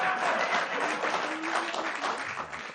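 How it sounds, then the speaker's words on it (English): Audience applause fills the space as a dense, steady wash of clapping from a crowd at a political talk segment, sustained throughout with no break. "Applause over urinating."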